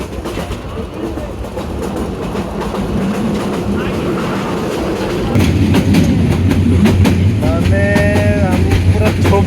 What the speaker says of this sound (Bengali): এখান থেকে কালনি এক্সপ্রেসে করে চলে যাব ভৈরব